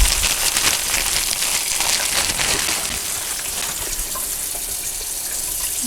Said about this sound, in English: now I'm just going to put a bunch of water in here.